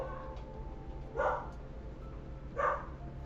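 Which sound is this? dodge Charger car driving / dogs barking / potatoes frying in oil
dogs barking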